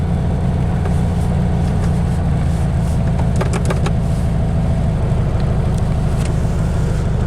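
A 1966 Volkswagen engine runs rough with the choke on, a steady loud low rumble and shaking idle throughout, with a few brief rattles partway through.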